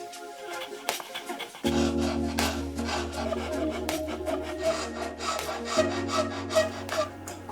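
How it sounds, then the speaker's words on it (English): Rasps and sandpaper glued to a dowel shaping and fairing curved wooden legs for a mid-century modern table, steady rhythmic rasping strokes over a low sustained hum, up close. "I redefined the curves at the join and faired them using a combination of a couple rasps and sandpaper glued to a dowel"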